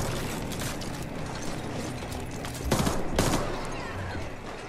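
Rapid bursts of video game gunfire in The Ascent, dense repeated shots forming a steady rattling stream with two louder volleys, mixed into constant game noise and no talk.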